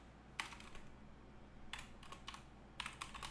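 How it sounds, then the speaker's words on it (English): Python code being typed on a computer keyboard, quiet bursts of rapid key clicks separated by short pauses, close and alone with no talk. "I'll go ahead and type out both versions here so that you have both"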